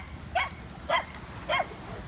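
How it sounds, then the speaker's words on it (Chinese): A dog barks three times in evenly spaced bursts while driving back pigs outdoors, the barks loud and fairly close over a low steady background rumble. "这只狗叫做点点"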